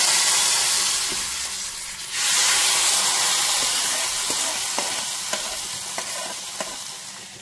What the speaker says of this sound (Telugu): పోపుని పులుసులో వేసేసుకున్నాం.